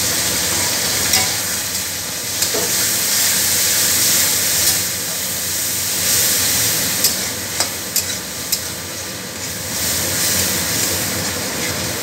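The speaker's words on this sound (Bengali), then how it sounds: "এবার একটু জল দিয়ে ভালো করে কষিয়ে নেব।" Mutton sautéing in a pan with a little water, a steady loud sizzle and bubbling hiss with occasional scrapes and clinks of a stirring spoon.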